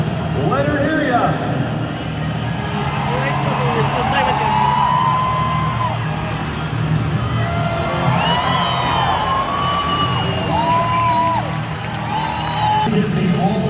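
A stadium crowd at a Monster Jam freestyle motocross best-trick competition cheers and applauds in a steady loud roar. Dirt bike engines whine, rising and falling, throughout.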